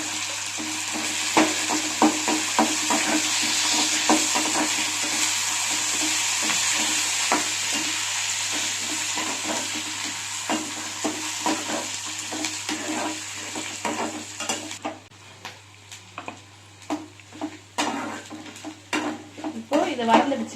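Lentils, dried red chilies, fennel seeds, garlic and curry leaves roast in a pan for kara dosai, a steady sizzle with frequent scraping and stirring clinks that becomes quieter and more broken toward the end, while someone talks at times.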